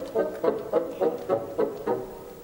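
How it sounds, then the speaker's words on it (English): Bassoons from Holst's Mercury playing a soft, steady figure in 3/4 time, with evenly repeating pulses in a low-mid register and no voices. "the bassoons are playing in 3/4 time."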